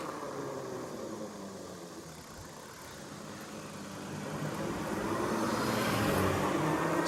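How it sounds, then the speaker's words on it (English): A Ridstar Q20 electric bike makes a top speed run on a road, its motor and wind noise building steadily over several seconds into a louder rushing hum, alone with no talk. "So I can actually do a top speed run right here"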